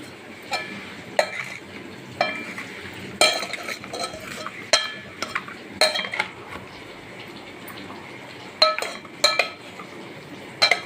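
Burgula talimpu is stirred in a pan with a metal spoon, making repeated sharp clinks and scrapes against the metal in irregular bursts over a soft sizzle, close up with no talking.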